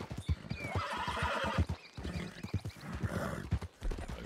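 A horse in the Red Dead Redemption 2 video game trots with rhythmic clip-clopping hooves and lets out a clear whinny, close and prominent, with no talk over it.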